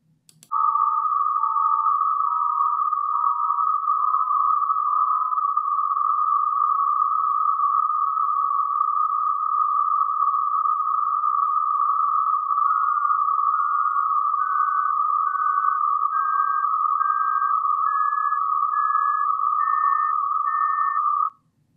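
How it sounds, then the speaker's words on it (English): A series of steady pure beep tones steps upward in pitch while a continuous narrow band of hissing noise holds underneath. The tones fade out as they cross the noise band and reemerge above it, all loud and clean. "You will first hear the tones and then they will sort of disappear in the noise. They will be masked by the noise."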